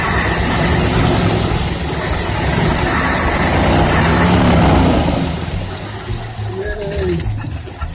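A rusty old motor starting up and settling into a rough, loud idle close by, the low rumble fading and getting unsteady after about five seconds.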